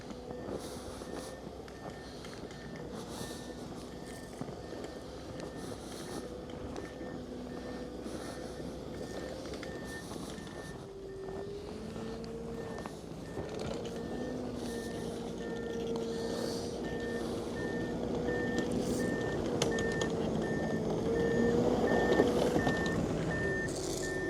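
A PistenBully 400 snow groomer grooms a snowmobile trail, raising and lowering its pan and drag. The diesel drone runs steadily with shifting engine tones, a repeating beeping alarm sounds throughout, and the machine swells louder toward the end.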